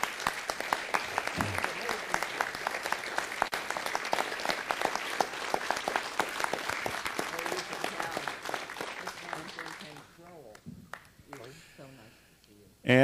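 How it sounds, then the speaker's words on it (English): At a city council meeting, a room of people gives sustained, crisp applause for a police chief for about ten seconds; the clapping then fades and a speaker's voice takes over. "give him a nice round of applause"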